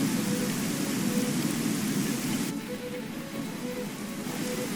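Rain and thunder from the Hearts of Iron IV strategy game: a dense, steady hiss of rainfall with a low rumbling undertone, fairly loud and continuous, with no voices.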